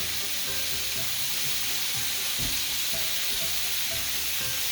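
Meat searing in a pan for Irish stew, a steady loud sizzle with bursts of frying, occasional low knocks and shifts as pieces are moved, no voices.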